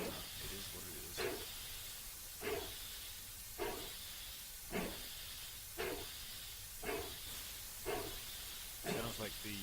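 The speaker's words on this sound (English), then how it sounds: "Sounds like the chuffing sounds are a actual recording." Steam locomotive chuffing in Train Simulator 2015, a recorded exhaust beat giving about eight evenly spaced hissing puffs over a constant steamy hiss, fairly close and steady.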